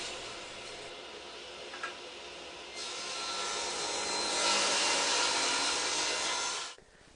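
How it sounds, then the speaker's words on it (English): A saw cuts through square wooden stock being prepared for dowels, a steady rasping stroke that grows louder midway and then stops abruptly near the end, close and alone. "I start by cutting some square stock that is just a tiny bit larger than the dowels I want to make."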